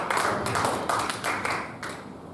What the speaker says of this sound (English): Can you clap your hands and celebrate this God for us?